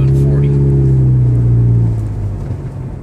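Automatic Scion FR-S engine droning loud and steady, then dropping in pitch as it shifts up through the gears, with a person talking over it throughout.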